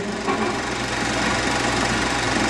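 A 1950 Allis-Chalmers WD-45 three-plow farm tractor engine runs steadily, a loud, dense mechanical drone with a fast knocking pulse held evenly throughout, no voices present.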